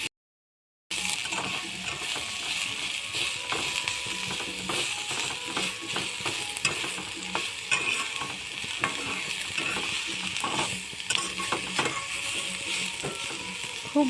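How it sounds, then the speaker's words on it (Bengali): Onion fries in oil in a pan after a brief silence, giving a steady, close sizzle broken by repeated scrapes and stirs of a spatula. "যে পেঁয়াজটা এখানে রেখেছি এটাকে দিয়ে দেব। এটাকে ভেজে নেবেন ভালো করে।"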